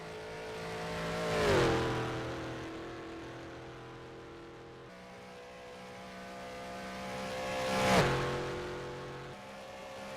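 Two race cars roar past at the Isle of Man time trial, each engine note swelling to a loud peak and then dropping in pitch as it fades, with a steady drone between the passes.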